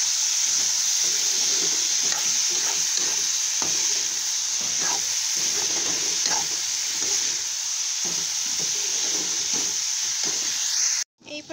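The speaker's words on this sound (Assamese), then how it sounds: "এতিয়া এইখিনি ভালকৈ লৰাম।" Vegetables being stirred as they fry in a pan with turmeric and salt, beans and potatoes in hot oil, give a steady sizzle with repeated scraping strokes throughout, ending abruptly.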